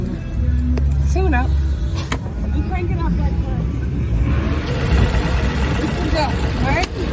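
Engine of a 2015 Jeep Cherokee Sport after a tune-up: a steady low idle rumble holds throughout while people talk nearby.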